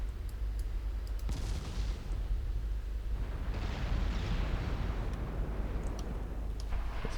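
Naval battle in a warship video game, with continuous rumbling gunfire and booming explosions, sharp shell blasts and bursts layered over a steady low roar, fairly loud throughout with no talk.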